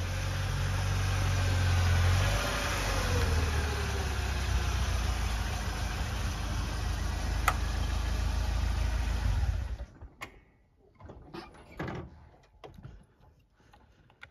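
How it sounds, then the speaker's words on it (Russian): A car engine idles and rumbles close by for about ten seconds, then cuts off, leaving scattered quieter knocks and handling noises. "Слышу, слышу, машина едет."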